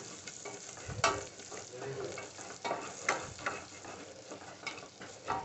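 Spice paste frying in a pan for a Telugu vegetable dish, a soft steady sizzle with scraping stirs and a few sharp utensil knocks against the pan, fairly quiet and close.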